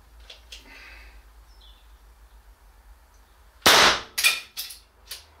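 A single sharp, loud crack of an air rifle shot from a Scuba Ringer MK2, followed by a few quick clattering ticks and echoes after a quiet, low-humming lead-in.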